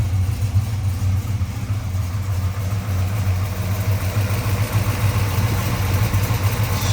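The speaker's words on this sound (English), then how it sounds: "Strong V8 running like a champ." A 1971 Chevrolet Monte Carlo V8 with a 4-speed automatic overdrive idles steadily, a deep, even rumble heard close by and loud throughout, with no talk.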